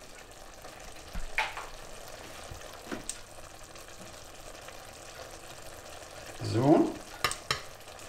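A utensil scrapes and stirs hoisin sauce in an uncoated pan in a few separate strokes over a faint sizzle; a voice says a single word.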